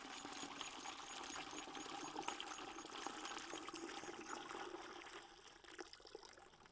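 Water pours steadily into a 20 litre bucket while liquid fertiliser is made from fish frames, a continuous splashing gush heard close and fairly quiet, tapering slightly at the end.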